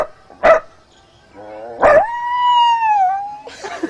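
A voice imitates a dog: two short, sharp barks, then a long, drawn-out, wavering yawn-like howl. The sounds are close and clear, with no other talking.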